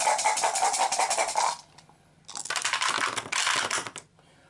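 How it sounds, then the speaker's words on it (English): Five dice rattle and tumble across a table during a turn of the board game Arkham Horror: The Dunwich Horror, two loud clattering rolls separated by a brief pause, close and alone without speech. "So we've just got to roll five dice."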